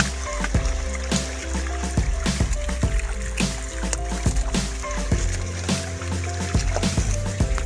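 Irrigation water flows into a castor field on a farm, with a steady trickling rush close by and a low rhythmic chugging, like a pump engine, thumping throughout.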